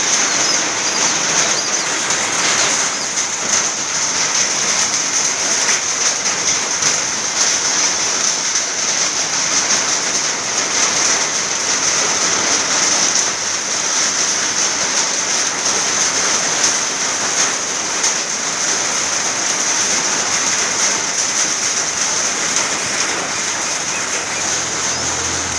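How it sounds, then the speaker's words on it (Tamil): Light summer drizzle falling steadily for over twenty seconds, a soft continuous hiss of patter on surfaces with faint bird sounds in the background and no talk. "ஆனால் இப்போ திடீர்னு மழை தூத்தல் ஆரம்பிச்சிருக்கு"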